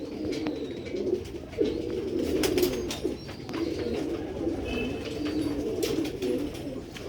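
Old-breed Sialkoti pigeons coo in repeated low, throaty phrases close by, the soft rolling calls overlapping steadily with a few faint chirps and small background clatters.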